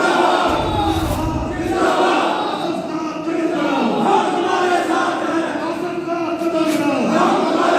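Protesting clerks in an education department demonstration chant loud slogans together, a dense crowd of voices rising and falling continuously at close range, with a brief low rumble near the start.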